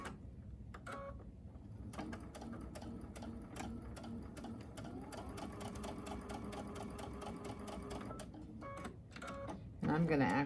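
A sewing machine stitches a quilt block with a steady rapid mechanical ticking and whir, running continuously at close range, with a faint voice near the end.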